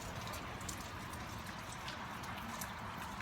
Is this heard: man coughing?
no